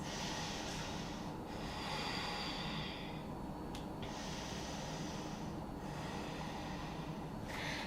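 Slow, heavy breaths during a yoga pose, long airy inhales and exhales in a calm repeating rhythm, each separated by a short gap, close and fairly loud with no speech.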